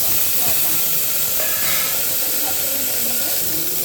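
Fig vegetable tipped into hot oil spiced with mustard seeds and panch phoron: a loud, steady, close hiss of sizzling that fills the whole stretch, with faint clinks beneath.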